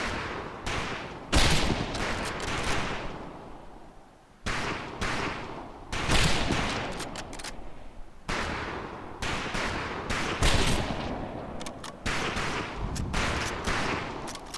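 Bursts of gunfire from the PC game Medal of Honor Pacific Assault, repeated volleys of rifle and machine-gun shots in clusters separated by short lulls, steady and fairly loud throughout.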